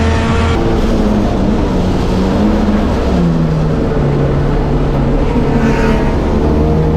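GT3 and GT4 race cars, a Holden Commodore among them, running at a GTRNZ OctoberFAST race in New Zealand make a loud, steady engine drone that barely changes. It sounds close and continuous, with no talk.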